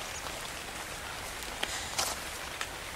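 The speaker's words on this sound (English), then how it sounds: "But it's rain, it does fill your water up." Rain falling in Ark Survival Evolved, a continuous patter on surfaces with a few sharper drips or taps standing out near the end.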